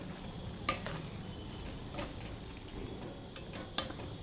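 Fresh coriander leaves fry gently in a pan, a faint, soft sizzle broken by a few sharp clicks and scrapes from a stirring spoon, with no talking.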